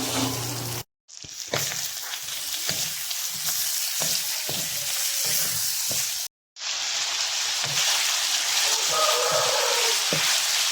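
Pork fries in hot cooking oil for pork humba, a loud continuous sizzle close by with stirring clinks, dropping out briefly twice before returning.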